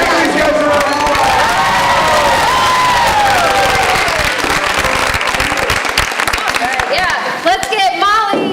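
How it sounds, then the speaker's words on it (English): An audience breaks into loud, sustained applause and cheering for improv performers, close and dense throughout, with voices shouting over the clapping near the end. "Give these guys a round of applause."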